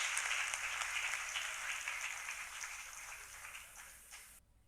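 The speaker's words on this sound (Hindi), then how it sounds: "जोरदार तालियों के स्वागत कीजिए श्री अनु कुमार ओझा जी का।" An audience applauds to welcome a speaker at a motivational talk, giving dense, steady clapping from a crowd that gradually fades before stopping abruptly.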